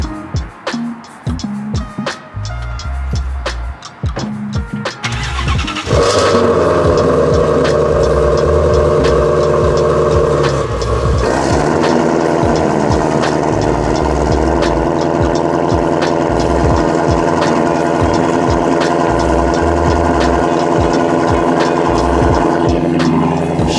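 A Ford Shelby GT350 is cold-started after a day unused: a few clicks and a short crank, then the engine catches with a loud bark and settles into a steady, loud exhaust idle that continues at close range.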